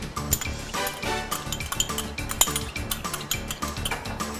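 A whisk beats egg into a cheese soufflé base in a bowl, giving a fast, steady run of metallic clinks and scrapes against the bowl, close and fairly loud, with no talking.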